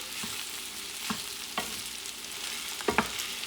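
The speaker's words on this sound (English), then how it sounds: "All you're doing is mixing everything now." Spoon stirring rice together with cooked beef ribs and sofrito in a pan over medium-low heat, a few scraping strokes over a steady soft sizzle, close and fairly quiet with no talk.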